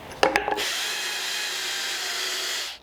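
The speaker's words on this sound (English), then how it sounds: "let's drill this hole out a little bit" A power drill whines steadily for a couple of seconds after a few short knocks and clicks, close and fairly loud, then stops abruptly, drilling out a hole in a shock absorber dust cover for an 8th-generation Honda Civic.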